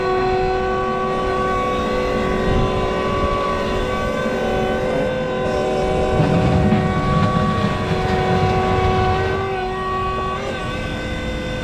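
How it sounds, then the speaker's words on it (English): An electric tractor drives at a farm show with a steady, continuous motor drone and a faint tonal whine, holding at an even level throughout. "I am going to drive an electric tractor"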